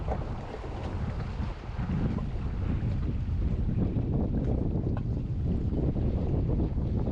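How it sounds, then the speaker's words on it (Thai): Strong wind roars steadily across the microphone at sea aboard a fishing boat out jigging, a loud continuous gusting rush with water and hull noise beneath, no talking. "โอ้โหลมสุดยอด"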